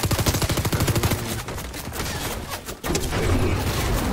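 A SCAR assault rifle fires in an Xbox shooter video game, opening with a loud, rapid burst of shots. Busy in-game noise and a brief cutout follow, with no talking.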